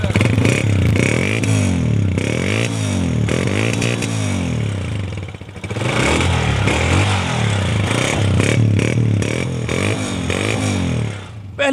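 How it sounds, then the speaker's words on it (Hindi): A 2011 Honda 125 motorcycle engine runs close by, a steady loud putter with rattling and revving swells throughout, dipping briefly midway and near the end. "पहली किक में स्टार्ट होंडा 125 मॉडल 2011"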